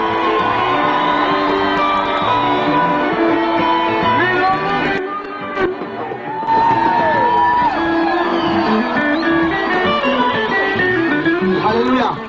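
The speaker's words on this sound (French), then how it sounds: "Applaudissons le Seigneur pour ses serviteurs." Large crowd at an evangelistic crusade in Kinshasa cheers loudly, with whoops, shouts and yells layered over a sustained, dense roar of voices that continues for about twelve seconds, dipping briefly near the middle.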